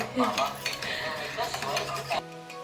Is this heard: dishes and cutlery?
yes